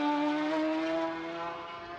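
A racing motorcycle at the Macau Grand Prix holds a loud, sustained engine whine that eases slightly lower in pitch partway through as it pulls through second gear.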